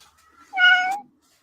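A single close cat meow, one clear drawn-out call lasting about half a second in an otherwise quiet indoor room.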